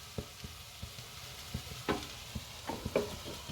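Potatoes fry in a pan, browning, served alongside a fish sauce. A steady close sizzle runs throughout, broken by repeated clicks and scrapes of stirring.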